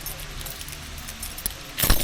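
A ring of car keys jangles near a 1972 Oldsmobile Cutlass convertible as the keys are tried in the lock, with a soft steady background and a loud close rattle near the end.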